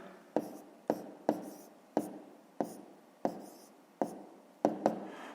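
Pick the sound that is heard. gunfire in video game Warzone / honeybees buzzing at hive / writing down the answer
writing down the answer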